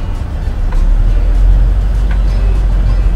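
A car accelerating from a start in second gear, heard from inside as a loud, steady low engine drone with road rumble and no distinct passing sounds.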